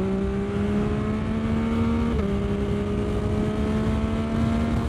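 A motorcycle engine with a freshly flashed ECU drones steadily at highway speed, its tone holding even with a small shift midway and wind roar underneath.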